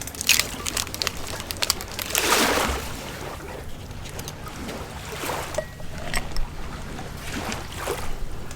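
A cocktail shaker holding a brandy scorpion drink is shaken with ice, giving rough rattling and sloshing bursts in uneven surges, close and fairly loud, with no talking.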